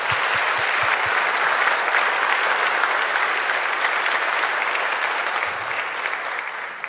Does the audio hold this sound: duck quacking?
no